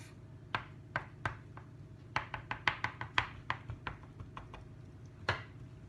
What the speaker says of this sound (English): Now I'm going to have my cutter and I'm going to cut it in half.